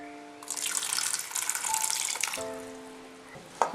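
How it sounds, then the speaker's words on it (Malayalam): Water poured into a pressure cooker holding tender jackfruit and slit green chillies for a Malabar-style masala curry, a steady splashing pour of a few seconds that starts abruptly and stops, with no talk. "ഇനി ഇച്ചിരി വെള്ളം ഒഴിക്കാം."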